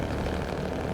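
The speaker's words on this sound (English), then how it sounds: "the engine noise on this thing is just" Steady engine drone from a truck in SnowRunner, running continuously at an even idle-like rumble for about a second with no speech over it.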